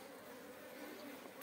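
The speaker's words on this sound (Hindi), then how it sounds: "यहाँ पर मधुमक्खी का छत्ता लगा हुआ है" Indian honey bees, Apis cerana indica, hum faintly and steadily at a hive in Mandi, Himachal Pradesh, a soft continuous drone with no talking, ending with a slight click.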